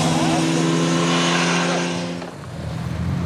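Loud motorbikes roar past on a country road near a forest abbey, a strong steady engine tone that fades as they pass, then lighter traffic noise behind.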